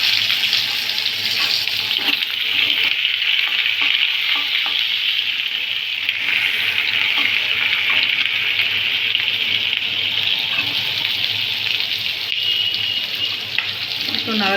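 Onions hitting hot oil in a pan while cooking fish-oil pumpkin chachchari, a steady close sizzle with occasional stirring scrapes and some water-like hiss running throughout.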